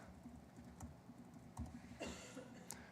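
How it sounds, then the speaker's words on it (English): Faint, scattered keystrokes on a computer keyboard tap in an uneven rhythm during a live coding session, soft and without speech. "I'm not going to make any typing mistakes in front of a bunch of people"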